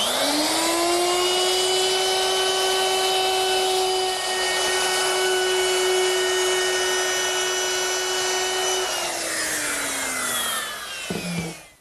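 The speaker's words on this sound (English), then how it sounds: "To make that round over, I'm using a 3/8 inch radius round over bit" A router spinning a 3/8 inch radius round-over bit along the edge of a wooden Shaker woodbox part, a loud, steady high whine that holds pitch and then winds down at the end.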